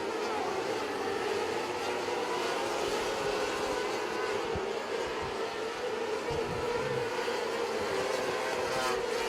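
Race cars circle a high-banked racing track, a continuous loud engine roar with shifting pitch as cars pass, steady and close throughout, with a track announcer's voice mixed faintly in the background.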